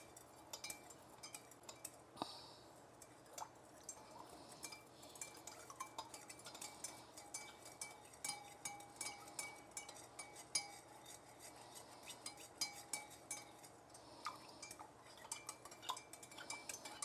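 Spoon stirring sugar and salt in a dish, faint repeated clinks and scrapes against the dish in a steady rhythm, close but quiet, no talking.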